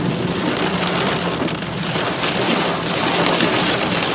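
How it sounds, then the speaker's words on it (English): A heavy rainstorm during the Jewish New Year in New Jersey pours down in a loud, dense, constant hiss with no talking. "there's a slight storm that is challenging one's visibility just a little bit"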